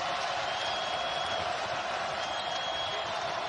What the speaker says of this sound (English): And now the crowd trying to help out the Noles at the defensive end.